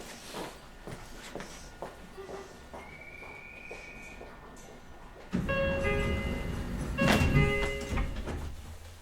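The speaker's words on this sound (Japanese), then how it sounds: "ドアを閉めます。ご注意ください。" Doors on a Meitetsu 4000 series commuter train slide shut after a short chime, followed by a louder rumble and clatter inside the carriage.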